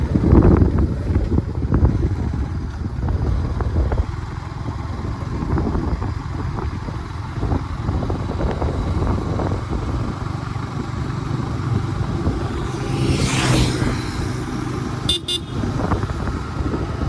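Two motorcycles, a Yamaha MT-15 and a KTM Duke 160, race along a road, engine drone steady under heavy wind buffeting, with a brief horn toot near the end.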